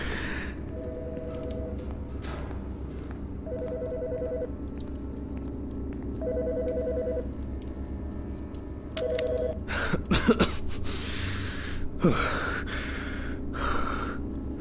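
An electronic telephone rings four times at an even pace in the Autopsy Simulator video game, set in a medical examiner's office. Soft breathing-like noises follow.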